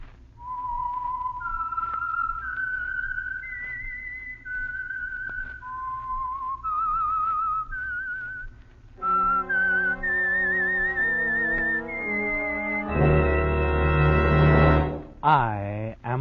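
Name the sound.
The Whistler radio program theme whistle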